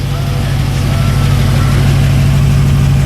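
A 1941 Buick engine idles close by with a loud, low, even rumble that pulses steadily throughout, with no break in the running.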